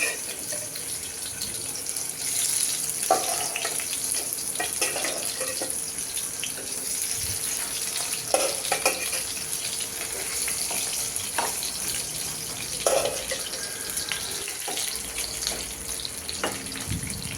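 Spiced koi fish fry in oil in a pan, giving a steady, moderate sizzle with occasional sharper pops and spatula clinks. The sound stays close and runs on without voices.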